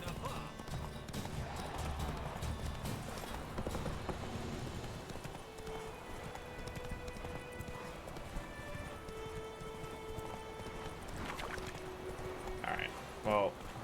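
Horse hooves clip-clopping in Witcher 3, a steady run of hoofbeats under game music and ambience, with a voice talking over it.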